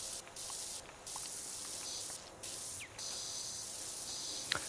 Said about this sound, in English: Come over here, spray this off.